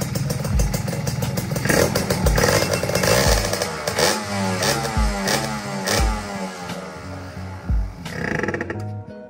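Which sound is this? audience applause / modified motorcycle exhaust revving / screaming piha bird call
modified motorcycle exhaust revving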